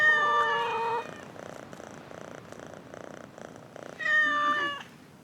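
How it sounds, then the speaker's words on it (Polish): Cats in the Assassin's Creed Mirage video game meow loudly, pause for a soft, rhythmic purr, then meow again near the end. "Skąd ty masz tu tyle kotów?"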